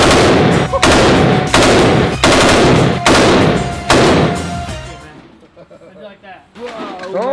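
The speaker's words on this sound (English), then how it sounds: "that's the gun that killed Osama bin Laden" Machine gun bursts fired at a shooting range in Las Vegas, several loud, close, rapid strings of shots separated by short pauses, then fading out as voices talk afterward.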